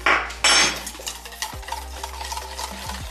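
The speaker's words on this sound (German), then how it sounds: "rühre das rein mit einem Schneebesen" A whisk beating egg substitute powder into yogurt in a bowl: quick rhythmic metallic clinks and swishes after a couple of louder knocks at the start, close with no voices.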